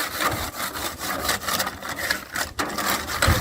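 Crumpled tin foil scrubbed back and forth over a rusty barbecue grill grate, giving a continuous rasping, gritty scrape in steady strokes, close up and without talk.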